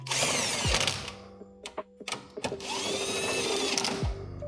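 A power tool whirs in two loud bursts with ratcheting clicks between them, tightening a bolt while a PRL intake is installed on a 2025 Honda Civic Type R FL5.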